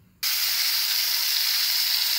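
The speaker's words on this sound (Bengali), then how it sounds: "এখন কড়াই আমি তেল দিয়ে বেশ খানিকটা কালো জিরে দিয়ে দিলাম" Black cumin seeds hitting hot oil in a wok, a sudden bright sizzle that bursts in and holds as a steady close crackling hiss.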